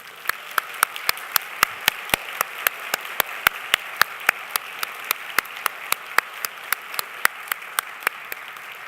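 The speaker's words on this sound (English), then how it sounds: "Let's give them all a big round of applause." Applause at a fall university convocation ceremony, a large hall of clapping hands forming a dense, steady patter with distinct nearby claps throughout, continuing evenly with no voices.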